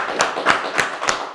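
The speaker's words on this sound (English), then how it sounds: "So I think we need a round of applause for this." A few sharp hand claps ring out at an even pace, about four in quick succession, close and fairly loud, greeting the first female guest on a talk show.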